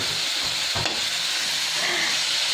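Butter garlic shrimp fry in a pan with a steady, close crackling sizzle and a brief scrape of stirring, with no talking.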